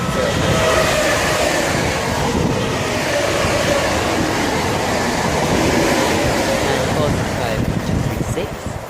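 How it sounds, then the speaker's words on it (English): A Southeastern Class 465 electric train passes Northfleet station on the North Kent line with a loud, continuous rumble and rattle of wheels, steady throughout the pass. "the 1603 Southeastern service from London Charing Cross to Gillingham via Woolwich Arsenal"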